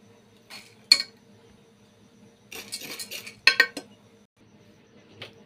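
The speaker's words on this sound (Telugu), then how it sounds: "పప్పు వేపుకోవాలి, వేపాను చూడండి." Dal being dry-roasted in a pan, a utensil stirring and knocking against the metal in short scattered bursts with quiet gaps between, close and soft, with no speech.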